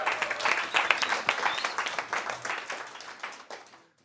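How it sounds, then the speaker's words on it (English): Applause from an audience at a Leeds Love Month talk event, dense clapping with a brief cheer near the start, holding steady for several seconds before fading out at the end. "So we just give a round of applause to them"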